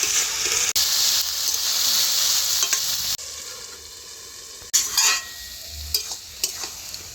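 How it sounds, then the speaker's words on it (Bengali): Bottle gourd and potatoes are stirred in a wok, with a spoon scraping through a hissing, sizzling fry that shifts in loudness and breaks into several short, separate scrapes toward the end. "ঢাকনা খুলে একটু নাড়াচাড়া করে দিতে হবে, নয়তো কড়াইতে লেগে যেতে পারে।"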